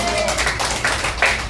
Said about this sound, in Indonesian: Yang setuju, tepuk tangan begitu